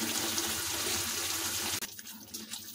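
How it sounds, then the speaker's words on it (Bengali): Water pours steadily into a pan of Odisha-style rohu fish masala curry with tomato, making a full rushing splash that cuts off abruptly, followed by fainter trickles and drips. "এরপর আমরা দিয়ে দিচ্ছি পরিমাণ মতো জল।"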